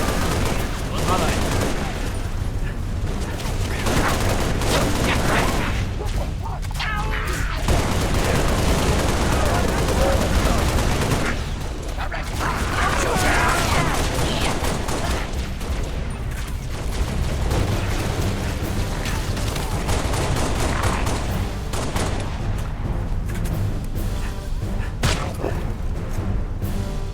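Sustained gunfire and explosions in the video game Halo Reach, loud and dense, with bursts of automatic weapons and booms under French radio chatter from the characters.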